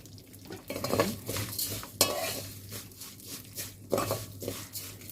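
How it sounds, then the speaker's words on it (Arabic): Vermicelli frying in oil in a pot as rice is made, stirred with a utensil: close scraping strokes and clinks against the pot over a steady sizzle, in irregular bursts with no voices. "حمري بقى الشعريه لونها يبقى لون البني كده شويه"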